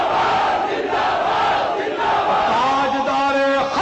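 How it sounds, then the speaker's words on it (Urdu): A large crowd at a religious gathering chants the slogan Tajdar-e-Khatm-e-Nabuwwat, many voices roaring together loudly in unison, swelling and holding the call across the whole stretch. "اینج کر کے نعرہ لاؤ تاجدار ختم نبوت"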